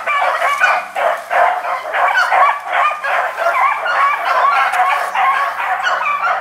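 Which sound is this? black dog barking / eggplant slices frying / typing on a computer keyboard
black dog barking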